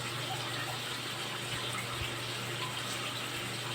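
Vegetables rinsed under a running kitchen tap, a steady close hiss and splash of water continuing without break and with no talking.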